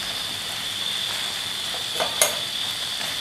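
Boiled pasta tossed with tomato ketchup and vegetables is stirred in a hot pan, giving a steady low sizzle with a couple of sharper scrapes of the spoon against the pan near the end.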